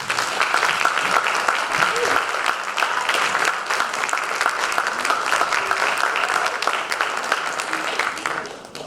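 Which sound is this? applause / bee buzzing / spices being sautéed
applause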